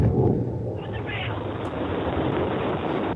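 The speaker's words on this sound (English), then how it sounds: "There's the relight of that BE3 engine." Blue Origin's New Shepard booster relights its BE-3 engine during descent, a loud, steady roar of rushing rocket thrust under a commentator's voice.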